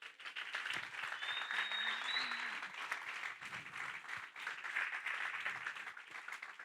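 A church congregation applauds steadily and fairly loudly, a dense wash of many hands clapping with no break, under a faint sustained tone.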